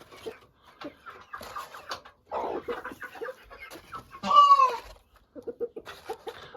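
Bantam Cochin chickens cluck in short scattered bursts close by, with one louder squawking call in the middle and quiet gaps between.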